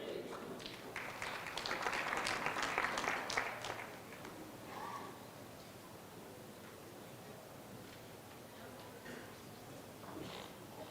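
A short burst of audience clapping at a trade union congress fades after a few seconds, followed by quieter, distant talking.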